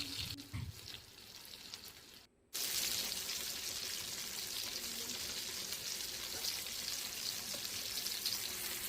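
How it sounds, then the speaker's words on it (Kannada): Indian mackerel (bangude) fries in a pan. A steady, close oil sizzle runs throughout, after a short handling clatter and a brief dropout, with no talk. "ಈಗ ಎಲ್ಲನೂ ಇವಾಗ ಹೀಗೆ ಉಲ್ಟಾ ಹಾಕ್ಕೊಂಡು ಇದನ್ನೊಂದು ಸ್ವಲ್ಪ ಹೊತ್ತು ಬಿಟ್ಟರೆ ಮತ್ತೊಂದು ಸೈಡು ಮೀನು ಫ್ರೈ ಆಗುತ್ತೆ"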